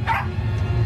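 A dog in a horror video game gives a single short yip or bark near the start, followed by low game ambience and hum.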